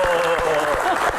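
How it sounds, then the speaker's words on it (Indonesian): A seated audience applauding panelists after a film Q&A session, brief steady clapping from a crowd with a voice speaking over it. "Tepuk tangan untuk rekan-rekan semuanya ada di sini"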